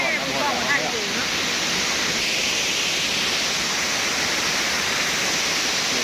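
Steady roar of a waterfall in a natural forest setting in southern Laos, a dense unbroken rush of falling water heard close and loud throughout, with faint birdlike chirps early on.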